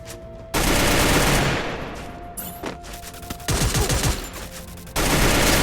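Rapid automatic gunfire bursts erupt during a crossfire in a battle royale shooter game, loud close volleys of shots with brief pauses between rattling fusillades.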